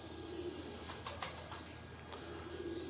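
Soft, low pigeon coos from a rooftop in Lahore repeat over a constant murmur of background noise, faint and somewhat distant.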